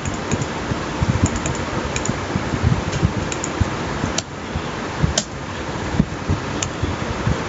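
Steady clatter of keys being typed on a computer keyboard while data is entered, rapid close clicks over a constant fan-like hiss, with a few louder taps standing out.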